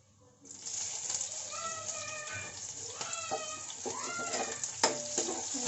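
Onions fry in hot ghee with bay leaf, cinnamon, cardamom and whole cumin, a close steady sizzle starting abruptly and continuing with stirring scrapes and a brief meow-like squeak.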